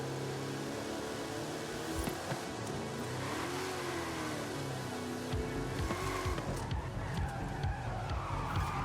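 A car skids and drifts in the video game Forza Horizon 5, with continuous tyre screech and wavering engine drone throughout, and the engine note rising and falling as the car slides, loud and unbroken.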